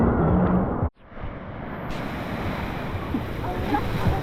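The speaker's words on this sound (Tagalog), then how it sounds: "Bang tayo ng malaking alon," Big ocean surf at a Zambales beach in the Philippines, a broad roaring wash with heavy wind buffeting the microphone, loud and continuous after a brief dropout.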